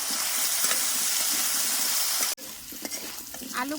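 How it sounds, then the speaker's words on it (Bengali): Spices fry steadily in hot oil in a pan, a dense continuous sizzle with faint stirring; it cuts out abruptly partway, then a quieter hiss resumes with light scraping. "মশলার ধান সুন্দর ভাজা হয়ে গেছে"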